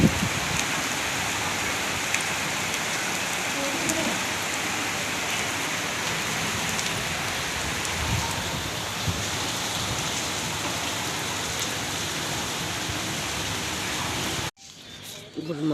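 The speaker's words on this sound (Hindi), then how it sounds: "बहुत तेज बारिश है" Heavy rain pours onto a rooftop in Lucknow, a dense, steady hiss of drops that stays loud and even for about fifteen seconds before cutting off abruptly.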